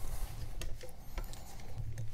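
A dry, worn bicycle freewheel on a Razor MX650 electric dirt bike spins with quiet, rapid ticking and light clicking, faint and close, with a few sharper clicks scattered through.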